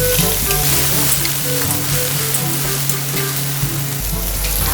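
Onions sauté in hot oil in a pan for pork pata kare kare, giving a steady, close crackling sizzle with a low hum running underneath throughout.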